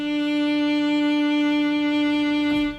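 A sampled solo violin, Embertone Friedlander, holds a single sustained bowed note with natural default vibrato, clear and close, alone for nearly three seconds before a brief faint knock at the end.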